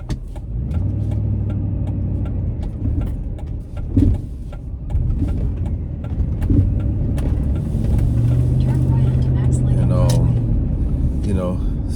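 A car driving on the road on the way to an AC job, steady engine and road rumble throughout, with someone talking over it.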